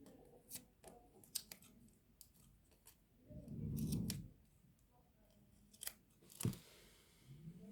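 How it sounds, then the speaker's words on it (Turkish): Scissors snip through the ends of a strip of tape in a series of short, crisp cuts, close and fairly quiet, with one fuller crunching rustle in the middle and no talking. "bantın uçlarını keseceğim"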